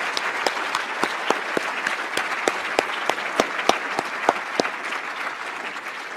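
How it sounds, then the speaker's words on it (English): A large audience at a National Academy of Engineering annual meeting claps in a sustained, even round of applause with crisp individual claps standing out. "another round of applause for everybody"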